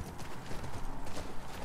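Faint, quick clip-clop of horse hooves on a hard surface, steady and rhythmic at low volume, in the video game The Last of Us Part II.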